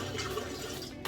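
Hot tap water running steadily for cleaning a ceramic tile kitchen floor, a continuous close splashing rush with no one speaking.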